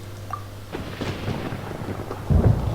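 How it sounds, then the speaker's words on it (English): Rumbling thunder rolls through a Genshin Impact thunderstorm with steady rain hiss, swelling into a loud, close crash near the end, no talk. "Where is the storm headed?"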